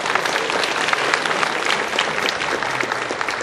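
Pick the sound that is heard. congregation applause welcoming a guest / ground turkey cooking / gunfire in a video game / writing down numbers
congregation applause welcoming a guest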